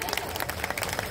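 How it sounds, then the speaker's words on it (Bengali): An audience claps together in a sustained, dense patter of many hands, filling the space at a moderate level. "একটু জোরে করতালির সাথে আমরা বরণ করে নেব।"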